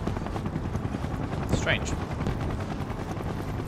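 Helicopters churn with a steady, dense rotor roar in Final Fantasy 7 Rebirth, a continuous wash of noise with a brief bright mechanical whine in the middle and a short spoken remark over it.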